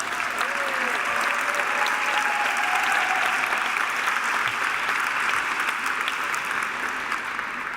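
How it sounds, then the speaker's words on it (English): An audience at a corporate closing reception and dinner applauds steadily, a dense, even wash of clapping from many hands that holds at a constant level throughout. "Give yourselves a round of applause"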